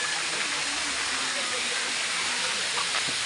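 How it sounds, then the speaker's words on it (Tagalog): A waterfall roars in a steady, dense hiss close by, with faint voices partly buried beneath the rushing water. "Waterfalls."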